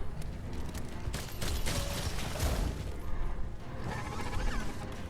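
Rapid bowgun fire in Monster Hunter World during an Alatreon fight, a dense run of overlapping shots and impacts with whooshing game effects over a steady battle background.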